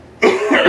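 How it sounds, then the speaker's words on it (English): A single cough with a short burst and a rougher trailing tail, close and loud after a brief near-silent lead-in. "I'm trying to laugh and cough at the same time."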